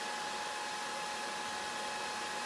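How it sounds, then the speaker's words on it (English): A hair dryer blows steadily at a constant pitch, a continuous airy whir with no pauses and no voices. "But you could take a hairdryer and you can actually move this around."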